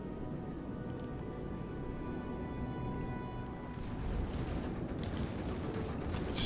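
A warship's main gun turret blows up in the naval battle game World of Warships Legends, heard as a rumbling, crackling burst of battle noise that swells about two-thirds through over a steady low roar of combat.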